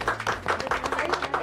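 Short burst of audience applause, dense clapping at a steady level, close and lively, during a Marathi TV show.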